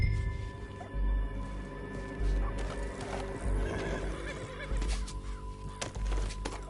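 A horse in Red Dead Redemption 2 neighs and whinnies while hooves clip-clop steadily beneath, with scattered game sounds and rumbling mixed in throughout.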